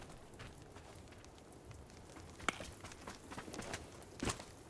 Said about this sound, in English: with the rain, it's hard to hear anything